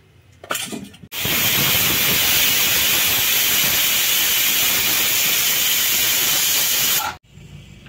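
A pressure cooker on a stove, cooking dal with turmeric and chilli powder, lets out one loud, sustained whistling hiss of steam lasting about six seconds, then cuts off abruptly, with no voices.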